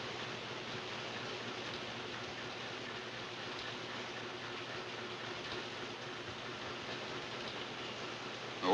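Steady rain falls throughout a tense film scene, a continuous even hiss of downpour in the background, with no other sound over it until a brief bump at the very end.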